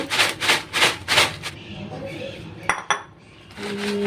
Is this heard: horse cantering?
no